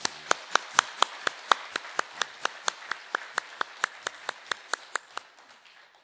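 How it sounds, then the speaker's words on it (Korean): Congregation applause after a church choir's worship song, a steady run of about twenty distinct, evenly spaced claps, fairly loud and close, with no talk over it. "감사하면서 격려의 박수 한번"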